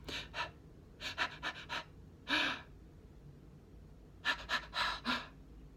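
A voice imitates a newborn baby's rapid, erratic breathing, with quick irregular clusters of breathy gasps and pants separated by brief pauses, close and fairly quiet.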